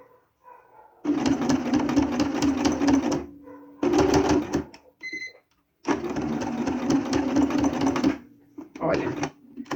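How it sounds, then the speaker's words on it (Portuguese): Sewing machine stitching bias binding, running in three long bursts with brief pauses as the presser foot is lowered and the fabric turned, loud and close, with a voice talking in the gaps. "Vou abaixar o calcador e sigo com a costura."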